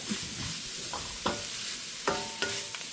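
Grated coconut stirred in a pan for a bitter melon stir-fry: a quiet background sizzle with a handful of sharp scraping strokes of a spoon, close and without speech.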